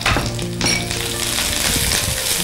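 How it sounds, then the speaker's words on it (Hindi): Chopped onions fry in hot oil in a pan, a loud, continuous sizzle with a few clinks of a utensil stirring them. "ऑनियन पके देली"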